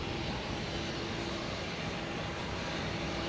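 An Aer Lingus airliner rumbles at Boston Logan Airport as a steady, broad jet roar heard from a distance, constant in level for a few seconds with no voices.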